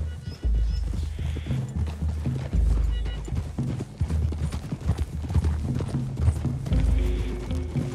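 Several horses' hooves clip-clop steadily over ground in Red Dead Redemption 2, a close rhythmic walking beat with occasional snorts and a brief whinny, accompanied by low ambient rumble.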